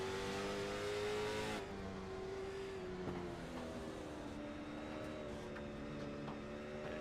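A late model race car at Stafford Speedway, heard on board, holds a steady droning engine note that shifts pitch as it lifts and accelerates through the lap, loud and continuous.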